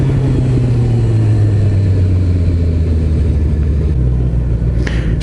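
A Suzuki Hayabusa motorcycle engine drones steadily under throttle on a training ride, close and loud, with heavy wind rumble over a constant low engine tone.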